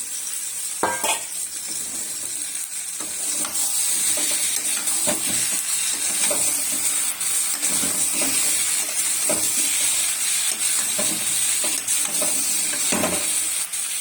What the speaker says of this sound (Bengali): আলুটা ঢেলে দিই, মশলা কষানো হয়ে গেছে।